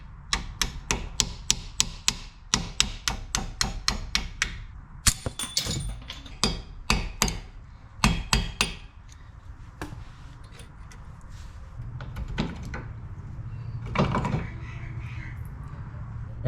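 Sharp metallic hammer taps ring out in quick irregular bursts while brake caliper pins are knocked out on a Lancer Evo 6, loud and close, with brief pauses between clusters of strikes.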